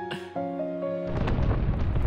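A deep, rumbling boom rolls in after a sustained musical tone, followed by continuous low, crackling rumble of distant wartime explosions on Shumshu Island.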